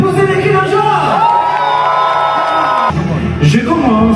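A crowd in Kinshasa shouting and cheering together, loud and sustained, with many overlapping voices and whoops rising and falling throughout.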